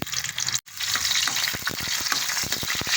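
Ginger sizzles loudly in hot cooking oil for sinigang na santol, a steady frying hiss with a brief cut near the start and a run of soft stirring knocks toward the end; nobody speaks.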